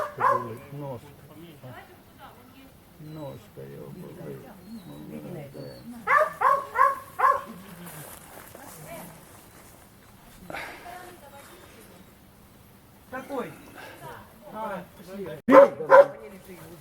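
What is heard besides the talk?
dog barking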